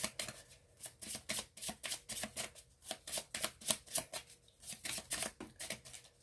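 Tarot cards shuffled by hand for a Libra love reading, a quick rhythmic series of crisp papery flutters and taps repeating in close bursts, alone and fairly quiet.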